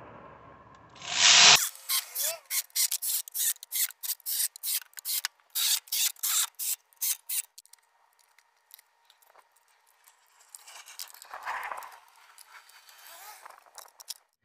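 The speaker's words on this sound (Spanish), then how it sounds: "vamos a darle otro retoque hasta que quede bien apretado" A socket ratchet tightens valve cover bolts on a 2007 Hummer H3 3.7, giving a quick run of loud, evenly spaced rasping clicks for several seconds, then a quieter pause with a faint scrape near the end.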